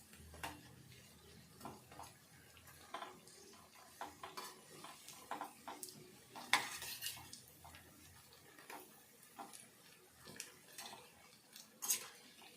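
Cabbage and potato fry being stirred in a pan, with soft scraping and clinking of a utensil against the pan repeating irregularly, faint and close, no talking.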